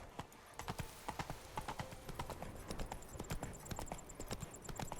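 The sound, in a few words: horse Roach trotting hooves, video game Witcher 3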